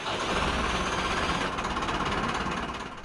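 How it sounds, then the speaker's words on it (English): A vintage yacht's engine runs in the engine room just after starting, a steady loud rumbling drone with a rhythmic knocking pulse that carries on without talk. "Just like before, the engine started right away after a single turn of the starter motor."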